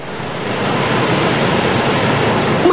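Floodwater rushes and churns across a highway in Daraga after heavy morning rain, a steady, loud broadband roar of flowing water that holds unbroken throughout with no voices.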